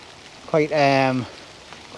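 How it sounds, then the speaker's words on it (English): Light rain patters at night under tree cover at the edge of a field, a faint steady hiss beneath someone talking. "The rain's just started as well"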